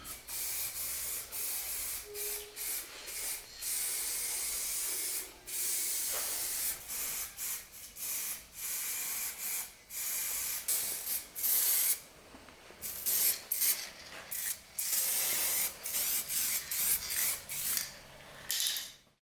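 Aerosol spray cans hiss in repeated bursts of a few seconds as paint goes onto a marine diesel engine being rebuilt at home, close and bright, with short gaps between passes and no talk.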